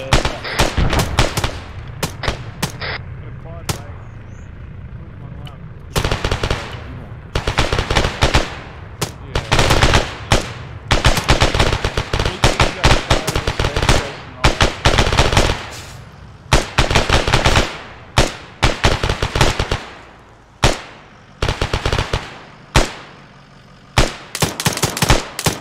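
SAW machine gun fire in the ArmA 3 video game, loud close bursts of rapid automatic shots separated by brief pauses, breaking into shorter clipped bursts toward the end.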